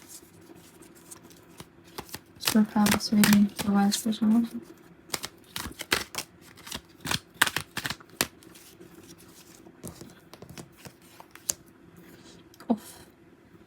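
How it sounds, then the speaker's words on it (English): Tarot cards are shuffled in quick riffling, clicking bursts that come thickest early on and then thin into scattered snaps, while a person talks throughout. "3 shuffles."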